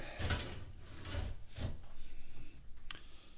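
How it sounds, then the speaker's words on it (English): Drawers in a rental property being opened and closed, giving several wooden slides and soft knocks at a steady pace, close by, with no talking. "Check to make sure these drawers are good."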